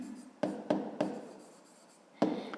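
Pen writing by hand on paper while working a math exercise, a few distinct stroke taps and scratches separated by quiet gaps, close and soft.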